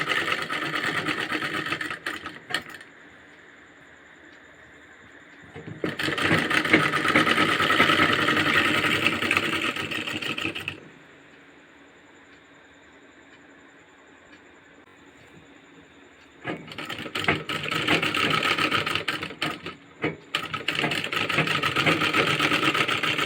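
An electric sewing machine stitching a kurti (kameez) runs in bursts of steady, rapid mechanical whirring, roughly five seconds on and then quieter pauses, with a final long run at the end.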